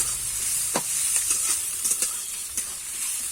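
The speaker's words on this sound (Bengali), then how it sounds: "আর একটু ভেজে নেব" Chicken sizzling steadily in a hot pan for chicken kosha, with a few brief scraping stirs cutting through the constant hiss, close and moderately loud, no voices.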